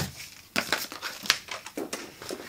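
Plastic packing bands are cut and yanked off the box of a Yamaha C5000 stereo preamplifier, making a quick run of sharp, close crinkling and snapping rustles.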